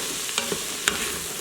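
Minced garlic and onions fry in an Instant Pot, giving a continuous close sizzle broken by a couple of light stirring clicks, with no voices.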